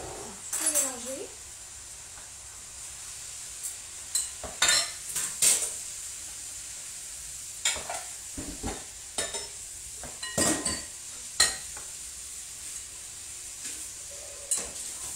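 Confit duck and sweet potato mixture stirred in a pan, a faint sizzle under intermittent scrapes and clinks of a spoon against the pan, with voices talking at times.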